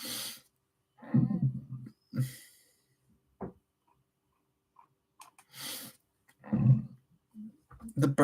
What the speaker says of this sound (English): The burps keep coming.